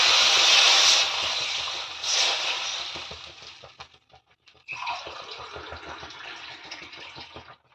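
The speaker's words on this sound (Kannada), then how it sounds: "ಎರಡು ಗ್ಲಾಸ್ ನೀರು ಹಾಕೋಬೇಕು" Two glasses of water poured into a pan of ragi upma, each a splashing rush of liquid that fades out, with a brief gap between pours and no talking.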